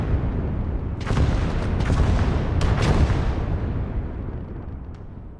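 Rocket artillery barrage in the WWII strategy game Gates of Hell: Ostfront, with several broadband blasts and booms landing over a steady rumbling battle bed, a few sharp impacts standing out around the middle.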